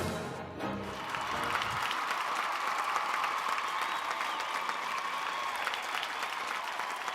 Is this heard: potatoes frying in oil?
no